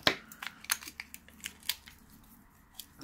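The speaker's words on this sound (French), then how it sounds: "on va faire à trois avec les ciseaux" Scissors cutting, probably through small cups on a tray: a string of short, crisp snips and crunches, close and moderately loud, spaced irregularly with quieter gaps between.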